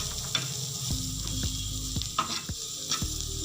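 Omelet masala of spices and onions sizzles in a hot pan, a continuous close crackle broken by a few sharp stirring clicks and scrapes spaced through the moment.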